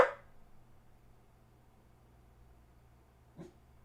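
A dog gives a sharp bark at the start, then a soft brief whimper or yip a few seconds later over a quiet indoor hum.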